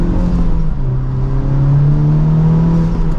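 A Honda Civic Type R FK8 with manual transmission accelerates, its engine droning loud and close in a rising, steady tone as revs climb, with no talk over it.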